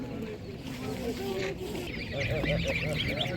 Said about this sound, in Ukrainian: так, гуска.